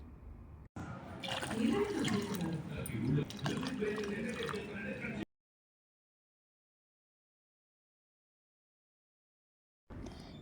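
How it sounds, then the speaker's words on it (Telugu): Water is poured into a cooking pot for pepper rasam, a steady liquid pour and trickle heard for several seconds alongside some talk, then the sound stops and near silence follows. "ఇప్పుడు మనం దీంట్లోకి వాటర్ వేసుకుందామండి."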